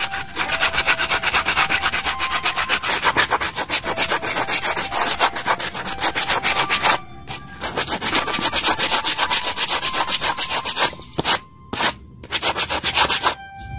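Steady, rapid scraping of coarse sandpaper over a hard coconut shell, continuous and close, with a few brief pauses near the end.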